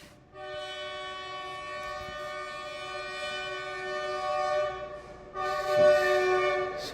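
A train horn blares in a long, steady harmonic tone as a train passes nearby, holding loud for several seconds before a second, louder blast with rising rumble near the end; no talking.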